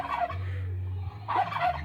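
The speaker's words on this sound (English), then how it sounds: "that's only 2 gobblers, 2 jakes over here making all that racket" Two young male turkeys, jakes, gobble nearby in outdoor farmland. Loud raspy gobbles sound at the start and again near the end, over a low steady hum.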